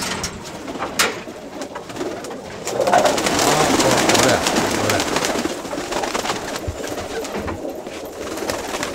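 Pigeons in a rooftop loft coo repeatedly, low soft calls from several birds close by, mixed with rustling and flapping that swells in the middle of the stretch.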